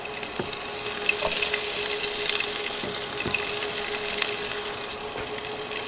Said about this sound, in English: So hear that sizzle? It's a good thing.